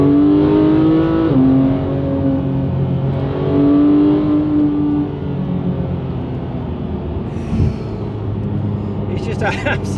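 A Porsche GT3 on open roads overtakes, its engine revving up sharply and climbing in pitch, then easing off into a lower rumble, heard from inside with a brief voice near the end.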